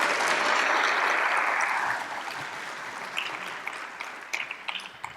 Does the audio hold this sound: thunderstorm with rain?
no